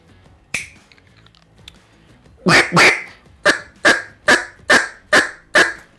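Soft clucks are blown on a duck call: one isolated note, then after a pause a quick pair followed by a run of seven evenly spaced, sharp clucks, close and clear with no voices.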